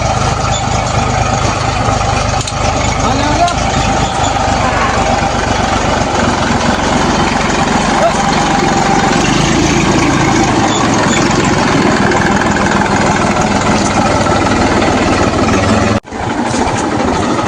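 A tractor engine idles nearby, a loud steady rumble that runs unbroken for most of the stretch before a brief drop near the end.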